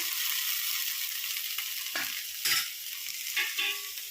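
Ginger and green chili fry in hot oil with a bright, steady sizzle, with a few stirring scrapes of a spoon in the pan, close and without speech.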